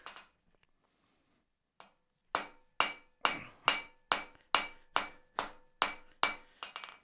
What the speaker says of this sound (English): we lay the piece over the edge like this, right? And we start to hammer down on it